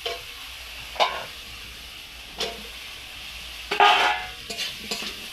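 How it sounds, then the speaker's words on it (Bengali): Potatoes sauté in a spice masala in a pan. A low, soft sizzle runs under several scraping stirs that come in short bursts, with the busiest stretch near the end. "দিয়ে আলুটা ওর সঙ্গে ভালো করে কষে নেবো"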